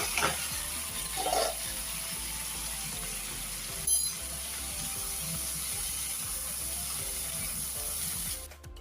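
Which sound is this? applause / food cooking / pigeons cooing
food cooking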